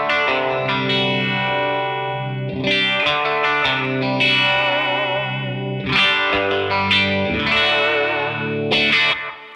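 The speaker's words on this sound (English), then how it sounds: "I actually just like to prepare a nice smooth compressed sound to go into the Ripple, just so the Ripple catches everything," Electric guitar fed through a compressor into a JAM Ripple phaser pedal, chords and notes sweeping with a swirling phased tone, thick and sustained, played alone throughout.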